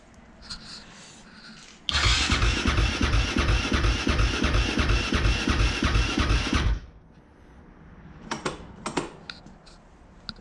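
A cold Honda TRX450R ATV engine with the choke on fires up and runs loud and close for about five seconds with a rapid, uneven thumping, then cuts off, leaving faint clicks and handling noises.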